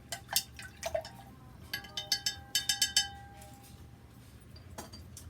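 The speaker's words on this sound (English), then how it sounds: "I'm going to take my little chopstick and I'm going to stir that around a little bit." A small chopstick stirs liquid in a glass container while making a rose quartz floral spray, giving a run of light clinks and taps, some clustered quickly, up close and alone before trailing off.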